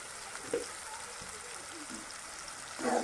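Cabbage and paneer fry with dry chilli powder and salt while being stirred, a soft, steady sizzle with a few scraping stirs and knocks, fairly quiet and close.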